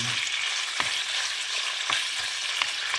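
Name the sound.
chicken frying in a pan for buffalo chicken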